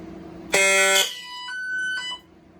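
A Silent Knight 6808 fire alarm system, set off by an SK Photo-W smoke detector, gives a sharp electronic horn blast, followed by a shorter, quieter two-tone beeping pattern before it stops.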